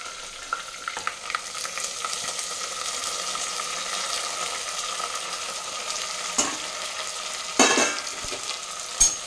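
Chopped onion and fenugreek leaves fry in a hot pan, a steady close sizzle with scraping stir strokes that grows louder as fresh ingredients drop in near the end.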